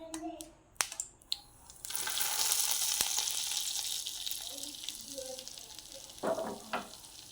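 Hot oil poured over garlic powder sets off a steady, soft sizzle lasting several seconds, faint and close, with a few clinks of utensils before and after.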